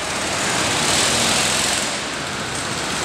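A small engine drones steadily at close range, a buzzy high-revving whine that holds fairly constant throughout with no voices.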